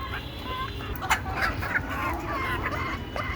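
Native laying hens on a backyard poultry farm cluck softly in short, scattered calls over a steady low background hum, faint and somewhat distant.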